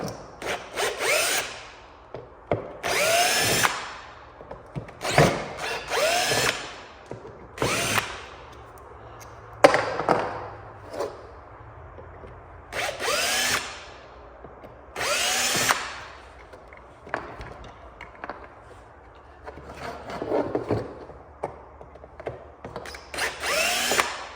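Power drill backing out three screws from the stator cover of a Yamaha Banshee, short whirring bursts repeated in quick succession with quiet gaps of handling between them, close and loud.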